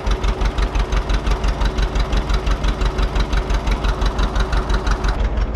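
A John Deere tractor hitched to a grain drill idles steadily, its engine knocking in an even, rapid pulse with a low vibrating thrum, close and continuous.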